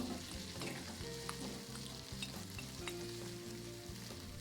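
Steady loud sizzling and frying fill the whole stretch as fried potatoes go into a pan of mutton curry, with a low bubbling rumble underneath and occasional stirring clinks, no voices.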